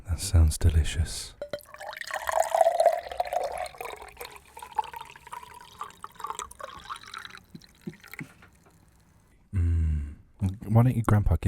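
Water poured back from one glass into another on a noise table, a close, continuous trickling pour that tapers off, followed by a brief louder clatter and a knock at the end.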